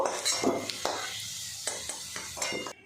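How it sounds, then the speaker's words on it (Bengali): Potatoes frying in turmeric oil in a pan, stirred with a spoon that scrapes and clinks against the metal in several short bursts over a soft, steady sizzle, close up with no talk. "আলুটা লাল লাল করে ভেজে নিয়েছি"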